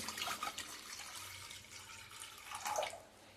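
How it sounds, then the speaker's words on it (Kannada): Water pouring into a pressure cooker set on a stove, a soft continuous trickling and splashing at close range, swelling briefly near the end, with no voices. "ಇವಾಗ ಈಗ ಸ್ಟವ್ ಮೇಲೆ ಕುಕ್ಕರ್ನ ಇಟ್ಕೊಂಡು ನೀರು ಸೇರಿಸ್ಕೊತಾ ಇದ್ದೀನಿ."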